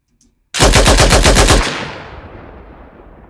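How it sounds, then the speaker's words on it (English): Eight rapid, loud, close gunshots layered as war ambience sound design burst out after a brief silence, then ring into a long decaying tail. "so that's 8 shots there"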